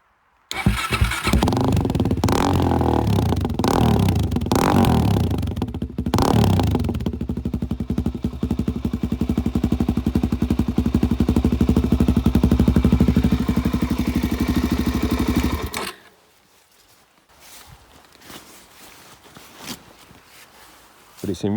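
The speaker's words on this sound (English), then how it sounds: "But this is quite loud now. I mean, this is as loud as the standard DRZ Enduro bike." A Suzuki DRZ 400 enduro motorcycle with a carburettor, airbox mod and aftermarket exhaust runs loud and close, rough and revving for about fifteen seconds before cutting off abruptly into quiet.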